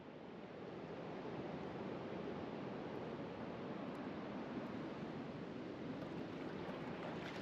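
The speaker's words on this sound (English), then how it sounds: "Got these relatively big waves out there banging around." Relatively big ocean waves crash on a Kauai beach, heard as a continuous broad wash of surf, steady and fairly loud from start to finish with no voices.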